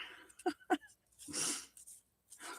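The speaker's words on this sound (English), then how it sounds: "My husband's sneezing in there." A man sneezes in another room, one muffled, breathy burst following a few short, faint voice sounds nearby.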